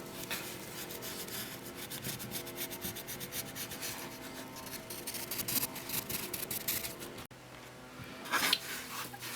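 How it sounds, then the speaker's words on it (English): A pencil traces around a paper pattern laid on folded fabric, a soft continuous scratchy rubbing with short strokes, close and quiet, no talking. "you need to just trace around your pattern"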